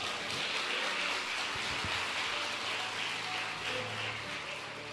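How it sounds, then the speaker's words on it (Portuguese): Church congregation applauding, a dense steady wash of clapping that holds through the whole stretch at moderate level, blurring into a rain-like patter. "então aplauda ao Senhor."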